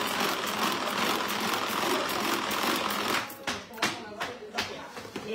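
An electric kitchen mixer whips cream at speed, a steady dense whirr running loud and unbroken before turning choppier and uneven, with bumps of the beaters against the bowl.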